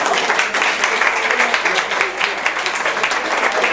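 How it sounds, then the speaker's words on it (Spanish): A conference audience applauds a speaker, steady dense clapping throughout, loud and close, with some voices mixed in. "Un aplauso para Ana."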